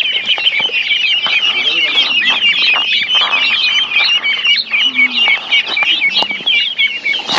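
Ducks on a river island farm, sheltered under nets against jackals, quack and chatter in a busy, continuous flock close by, with some speech and other birds mixed in.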